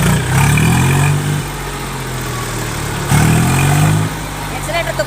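A tractor engine runs in second gear, a loud low hum with two rising revving swells about three seconds apart, while a person talks over it.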